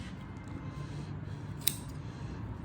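Cover material on a Diamond pool table rail is trimmed with scissors, a single quiet, crisp snip standing out against a soft room background.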